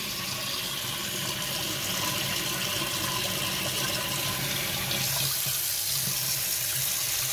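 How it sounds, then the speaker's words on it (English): Hot water running steadily from a kitchen tap into a sink, a constant close gushing rush that deepens slightly as the basin fills, with no voices. "Gonna fill it with hot water now."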